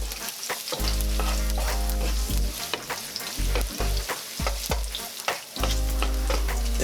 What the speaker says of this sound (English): When you put the garlic in, make sure you're putting it in the oil.